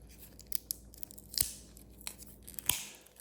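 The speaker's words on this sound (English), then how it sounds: "get some good scissors and don't chop the battery" Scissors snipping through a child-safe plastic blister pack holding a car key fob battery, a few sharp crisp cuts and crinkles spaced apart at close range, quiet between snips.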